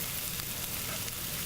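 Italian meatballs for meatball Parmesan sizzle in a hot pan, a close, steady, crackling fry with dense hiss and occasional sharper pops throughout.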